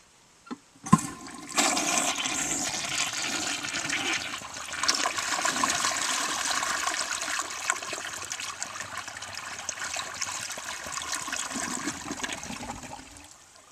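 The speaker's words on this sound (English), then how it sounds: "Another flush from a different angle." A 1966 Mansfield Simplex toilet flushes after a couple of short clicks, with a strong rushing gush of water settling into a steady bubbling refill and trickle, close and without talk.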